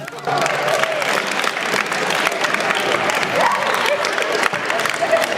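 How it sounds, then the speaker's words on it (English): Audience applause fills a prom mentalism show, a steady, dense round of clapping from a crowd that carries on without a break from start to finish. "Everybody give her a round of applause."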